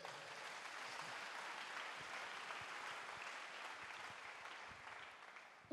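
Church congregation applauding during a French and Swahili sermon, a steady wash of clapping that holds evenly for several seconds before a sharp burst at the very end, with no voices over it.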